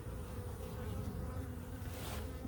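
Honey bees from an opened hive drone in a steady, close swarm of buzzing around a beekeeper, alone with no speech.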